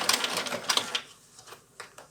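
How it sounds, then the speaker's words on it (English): A sewing machine stitches mitten fabric in a brief burst of rapid ticking that fades into a few sparse, quieter clicks. "I'm going to give a little bit of tension at the front and at the back of the fabric as I sew"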